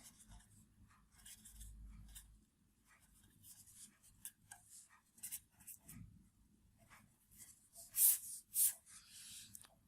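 A marker or chalk scratches out numbers on a board in short, separate strokes with pauses between them, close and fairly quiet, with no talking.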